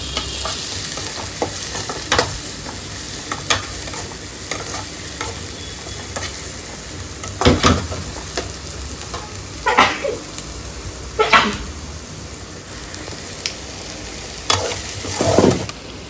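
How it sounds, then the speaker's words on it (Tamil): Onions sizzle and are stirred in a pan while cooking a green turkey berry kuzhambu. A steady frying hiss runs throughout, broken by a few louder scraping stirs. "ஆனியன் போட்டு இப்போ நல்லா மிக்ஸ் பண்ணிக்கலாம், வதக்கிக்கலாம்."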